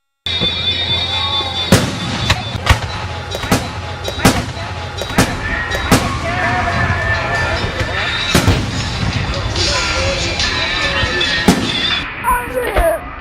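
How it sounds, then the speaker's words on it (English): A rapid string of sharp fireworks bangs and crackles goes off over about a dozen seconds, loud and close, with some speech mixed underneath. "I think I'll shoot off some fireworks."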